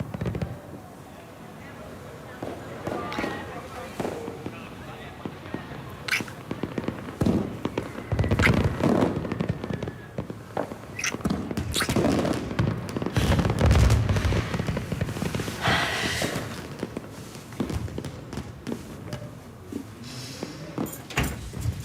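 Fireworks pop and crackle outdoors in irregular bursts, loud and then fading, while people talk over much of the noise.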